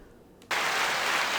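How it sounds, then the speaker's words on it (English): Canned applause sound effect played during a podcast intro, a sudden burst of dense clapping and cheering that starts abruptly and holds steady at moderate volume. "Sorry, I had the applause."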